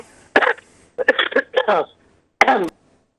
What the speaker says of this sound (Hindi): मौसमी बुखार वाला खांसी है।